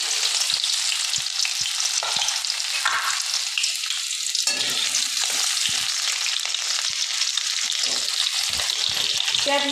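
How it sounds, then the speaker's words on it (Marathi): Chopped onion hits hot oil already crackling with tempered mustard seeds, giving a loud, steady close sizzle with stirring scrapes throughout, while khichdi is being made. "त्यानंतर कापून घेतलेला कांदा टाकू."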